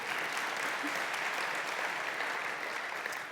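An audience claps throughout at a tech talk on CSS, a steady even wash of many hands that holds at a moderate, slightly distant level for a few seconds.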